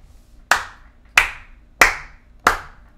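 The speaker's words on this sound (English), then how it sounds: "Clap, clap, clap," Four crisp, evenly spaced hand claps in a steady rhythm, close and sharp, with no voices between them during a children's rhythm lesson.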